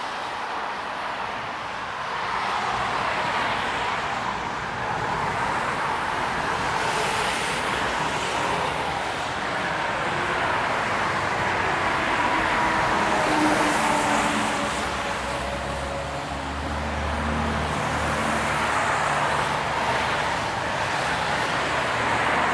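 Steady road traffic on Bloor Street East in Toronto, cars and heavier vehicles rolling past continuously with a low rumble and tire hiss, near and fairly loud throughout with no talking.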